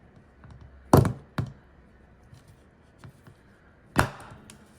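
Three sharp, solid thunks of a hole punch going through a thick journal cover, spaced apart, over faint room noise.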